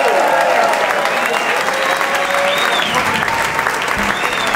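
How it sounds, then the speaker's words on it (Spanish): Concert audience applauding a band, loud continuous clapping and crowd noise close up, with a voice speaking over it near the end. "Un gran aplauso."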